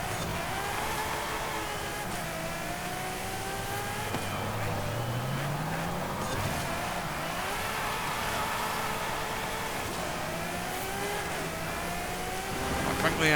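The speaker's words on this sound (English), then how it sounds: "Ridiculous how highly this revs." A race car engine in Forza Horizon 5 revs high and climbs through gears in a steady, sustained drone, with rising and falling pitch sweeps; someone talks over it throughout.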